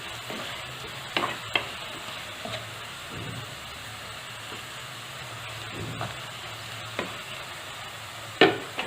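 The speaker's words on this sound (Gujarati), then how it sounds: "બધું એક વખત મિક્સ કરી લેવું" A spoon stirs moraiya (sama) khichdi with potatoes in a pot, soft sizzling and bubbling throughout with a few distinct scrapes and clinks against the pot, the loudest near the end.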